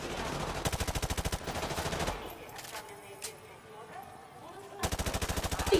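Machine-gun bursts fire in the shooter Modern Warfare Remastered, sharp, fast automatic rattles at close range. One burst opens the clip and another closes it, with a quieter gap between them holding a few distant shots and faint voices.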